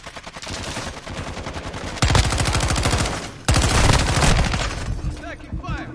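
Rapid automatic gunfire rattles in a video game battle, with dense bursts that break off and then resume even louder, close and harsh.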